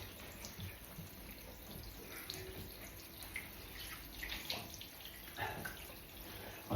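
Shower water runs steadily with a broad hiss during a dog's bath, with faint splashes and drips rising here and there throughout.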